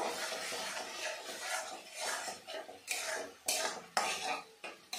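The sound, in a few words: masala with cumin being stir-fried in pan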